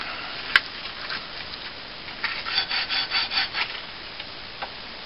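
A metal file rasps against a large wooden knitting needle in a short run of quick, rhythmic strokes close by, with a sharp click just before the strokes begin.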